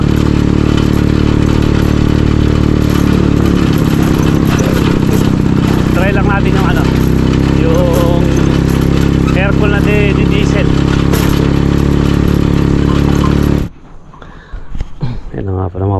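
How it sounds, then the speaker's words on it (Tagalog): A loud, steady engine drones continuously with clattering mechanical rattle, then cuts off abruptly near the end, leaving quieter background noise. "yung makina ni Kuya Jason hiniram muna natin itry natin kung medyo malakas yung ito"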